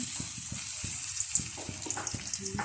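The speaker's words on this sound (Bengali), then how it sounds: "পেঁয়াজটাকে একটু ভেজে নিব।" Onions frying in oil in a pan for a Bangladeshi dried-fish bhuna with taro stolons and potato: a steady close hiss broken by light, regular ticks and clicks, with no voices.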